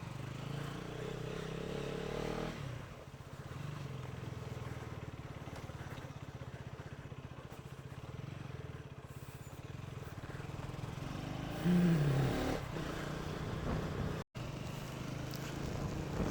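A car pulls out after a cold start, its engine a low, steady rumble heard from inside with some wind buffeting. A brief louder bump comes near the end.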